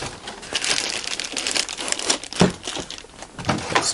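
Packaging around a UNI-T UTG4082A waveform generator crinkles and rustles close by in irregular bursts as it is unwrapped, with no talking.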